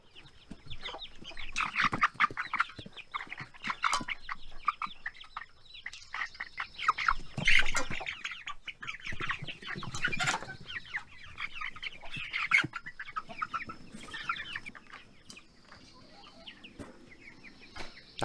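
Chickens on a homestead cluck and chatter in a coop during morning chores, a steady overlapping stream of close clucks and squawks with no talking.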